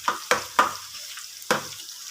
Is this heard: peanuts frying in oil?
yes